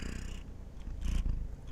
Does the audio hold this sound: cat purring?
yes